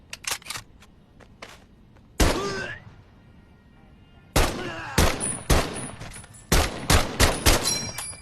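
An M1 Garand rifle fires in the Medal of Honor VR video game. A series of sharp, loud shots comes in bursts, with short gaps and mechanical clicks between them.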